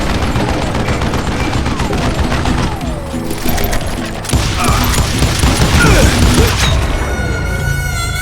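Rapid, loud gunfire in Call of Juarez: Gunslinger, with repeated shots, crashes and mechanical clatter running throughout, layered over game music.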